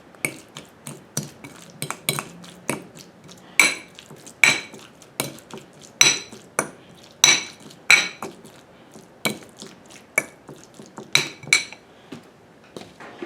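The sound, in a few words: mixing guacamole in a bowl with utensil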